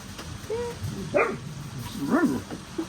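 Dogs give short playful barks, yips and whines nearby while playing with a ball, a few scattered vocal bursts over a low background hum.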